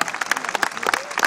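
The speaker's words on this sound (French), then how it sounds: "L'adjudant Madeline, vous pouvez l'applaudir." A crowd applauds at the Carrousel de Saumur military riding show, lively clapping from many spectators with voices mixed in underneath.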